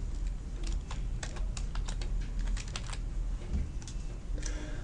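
Someone types on a computer keyboard while working in PowerPoint, a steady run of quick, close key clicks against faint room noise.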